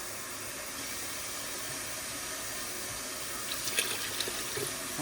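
Broth poured into a pot of beef stew makes a steady, hissing liquid stream that runs evenly throughout, with a few brighter splashes near the end.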